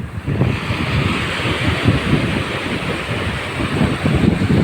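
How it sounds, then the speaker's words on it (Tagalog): Steady roar of ocean surf at Sabang Beach, Baler, Aurora, with high rolling waves breaking continuously, mixed with gusty wind noise buffeting the microphone. "Matataas na yung mga alon."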